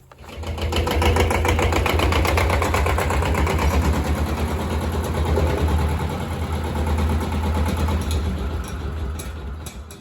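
A Countyline tractor engine idles and runs with a steady, low rumble and a rapid mechanical clatter, loud and close, without pause, while working with a post hole digger.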